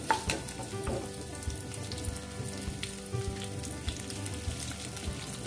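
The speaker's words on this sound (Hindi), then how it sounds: "अब इसी के साथ ही मैं इसमें करी पत्ते डाल दूंगी।" Curry leaves crackling in hot oil alongside urad dal and cumin for a tomato rasam tempering, a close, busy spatter of pops over a steady fry, with a few louder bursts throughout.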